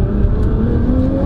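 A heavily tuned 1,000 bhp Nissan GT-R engine rumbling at steady revs with aftermarket exhaust, loud, close and deep, without talk.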